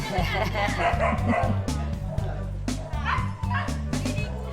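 A husky being bathed in Santo Tomas, Batangas, whines and yips and barks in dramatic, repeated bursts. The cries are close and loud over a steady low rumble.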